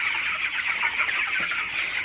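Broiler chickens on a farm clucking in a dense, continuous chorus of many birds, a close and fairly loud mass of overlapping calls with no voices.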